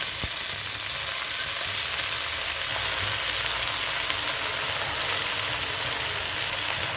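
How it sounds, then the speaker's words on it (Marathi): Washed chavli (cowpea) greens land in oil with fried onion and green chilli, giving a dense, even sizzle that holds steady and close throughout, with a faint low hum underneath and no voices. "आता आपण त्यात चवळीची भाजी घालू"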